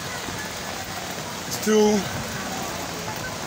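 Steady rain falling outdoors on a wet morning, a continuous soft hiss throughout, with a brief voice speaking over it midway.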